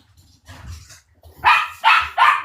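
A dog gives three loud, close barks in quick succession, preceded by a few softer muffled sounds.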